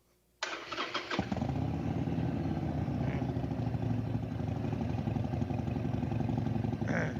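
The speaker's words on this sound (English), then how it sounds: "Go ahead and push the start button, Travis." A powersports engine in a service lab cranks briefly with a few sharp bursts, then catches and settles into a steady, loud idle close by that carries on without any talking.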